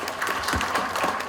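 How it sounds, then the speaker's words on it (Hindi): Audience applause at a celebration event in Rourkela, Odisha: a dense, continuous patter of many hands clapping, loud and steady throughout the short stretch. "तालियां सर के लिए चाहूँगा।"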